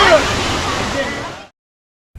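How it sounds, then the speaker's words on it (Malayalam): Lakkam waterfall in Marayoor, about 7300 feet above sea level, pours as a loud, close broadband roar that cuts off abruptly after about a second and a half, followed by silence. "ഈ ലക്കം വെള്ളച്ചാട്ടം എന്ന് പറയുന്നത് സമുദ്രനിരപ്പിൽ നിന്ന് ഏതാണ്ട് 7300 അടി ഉയരത്തിലുള്ള ഒരു വെള്ളച്ചാട്ടമാണ്"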